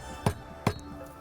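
A kitchen meat hammer strikes raw meat twice in close succession, two sharp, fairly loud thuds about half a second apart against quiet background.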